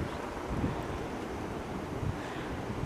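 Sea waves wash onto a Spanish beach under gusting wind, a steady, faint roar of surf with wind buffeting the microphone and no voices.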